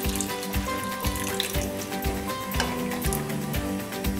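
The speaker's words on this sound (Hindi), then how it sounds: "इसमें मैं 2 कप पानी और ऐड करूंगी" Water poured into a pan of mutton nihari masala, a steady splashing gush over a sizzling, bubbling gravy, close and continuous with no voices.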